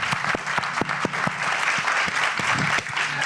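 Audience applause at an LGBT+ forum debate, a steady dense patter of many hands clapping close by, with a few louder individual claps standing out and no talk over it.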